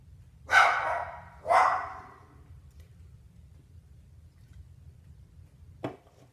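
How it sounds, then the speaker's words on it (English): A dog gives two loud, close barks about a second apart, followed by quiet and then one shorter, fainter yip near the end. "my dog would bark as soon as I hit the record button"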